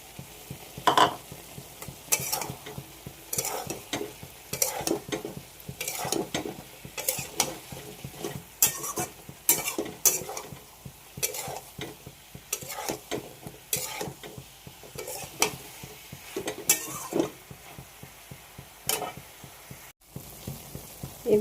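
Potatoes frying in a pan of spiced masala with soybean masala and Kashmiri chilli powder, stirred in brisk repeated scrapes and clinks over a constant close sizzle for about twenty seconds, no voices.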